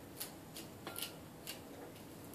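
Fresh cilantro being cut for a romaine and avocado salad, heard as faint, crisp, evenly spaced snipping cuts, about five in quick succession.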